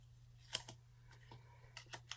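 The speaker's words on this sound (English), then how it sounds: "just use the scissors to cut around it" Scissors snip through paper around a planner sticker, a handful of quiet, close clicks and short cuts spaced irregularly over a low hum.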